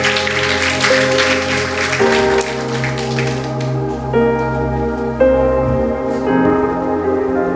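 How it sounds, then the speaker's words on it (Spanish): Church congregation applauding loudly in a sustained, dense wash of clapping over steady organ or keyboard chords, with no speech on top. "¿Cuántos pueden honrar la presencia del Espíritu de Dios con un fuerte aplauso?"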